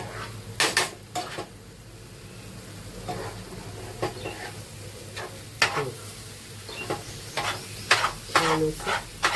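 A spoon stirs zunka mixed with kolim, a small dried shrimp, in a pan: a string of sharp scraping clacks of utensil on metal over a faint sizzle, irregular and close, with no talking.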